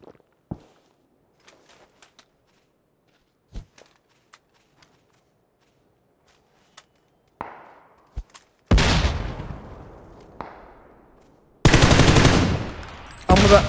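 Gunfire in the video game PUBG: scattered single sharp shots at first, then two loud sustained bursts of rapid automatic fire with echoing tails near the end.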